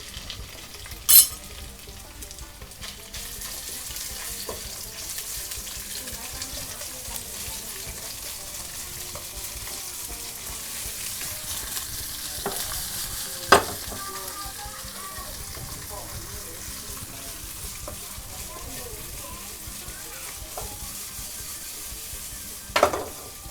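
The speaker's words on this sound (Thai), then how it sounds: "แล้วก็เอาลงไปขัวเลย" Curry paste of pounded chilli and garlic stir-frying with eel in a hot pan, a steady close sizzle that runs throughout, with a few sharp utensil knocks against the pan.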